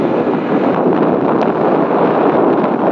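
Strong wind blows across a small river island, producing a loud, steady roar of buffeting against the microphone that continues unbroken, with no voices.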